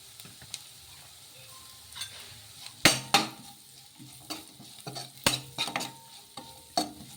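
Homemade noodles tossed with chili and salt are mixed in a pan, a utensil scraping and knocking in scattered sharp clacks over a faint sizzle, heard up close with no speech.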